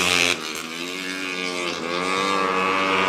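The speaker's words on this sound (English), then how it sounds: "I don't know if you can hear how loud these bikes are, but they are very loud." Racing motorcycles, including a Kawasaki 400 and a 250, scream down the straightaway at a B.M.R.A. race day, a loud continuous high-revving engine roar with a brief dip early on, no talk.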